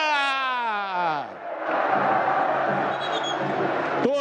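Football crowd at the Majestoso stadium during a Ponte Preta versus Guarani match, a loud voice calling out first over a broad roar of cheering fans that swells and stays dense throughout.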